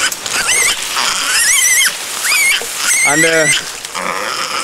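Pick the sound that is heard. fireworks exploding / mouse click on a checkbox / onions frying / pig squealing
pig squealing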